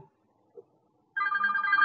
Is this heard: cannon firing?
no